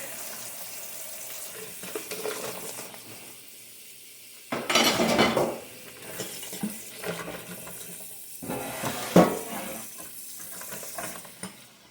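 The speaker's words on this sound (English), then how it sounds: "I'm going to rinse this ham real quick." A smoked ham rinsed under a running kitchen tap, water hissing steadily while the meat and pan bump and clatter, with two louder splashy surges partway through, close by and without speech.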